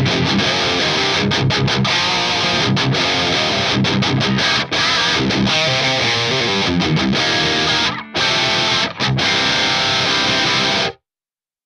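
Heavily distorted electric guitar through an Axe-Fx III amp model with V30 speakers plays chunky, high-gain riffs with short palm-muted stops, dense and loud, then cuts to silence at the end.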